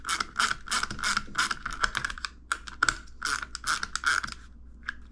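A small bolt is tightened on the climate control panel of a 1998-2007 Chevrolet Silverado, with rapid, close ratchet clicks coming in quick bursts and short gaps.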